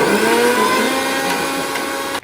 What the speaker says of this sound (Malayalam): മിക്സിയിലടിച്ച് നല്ല കുഴമ്പ് രൂപത്തിലാവണം കേട്ടോ